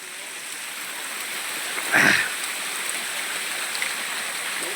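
Constant rushing water of a waterfall at Kalsubai fort, heard from a distance, steady hiss with a brief louder burst near the middle.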